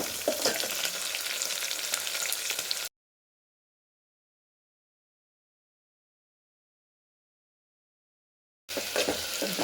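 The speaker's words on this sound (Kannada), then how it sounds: "ಈರುಳ್ಳಿ, ಹಾಗೆ ಹಸಿಮೆಣಸಿನಕಾಯಿ, ಕರಿಬೇವಿನ ಸೊಪ್ಪು ಹಾಕ್ತಿದ್ದೀನಿ. ಸ್ವಲ್ಪ ಇದು ಫ್ರೈ ಆಗಬೇಕು." Onion, green chilli and curry leaves fry in hot oil with a steady close sizzle, heard in two stretches broken by a long silent gap.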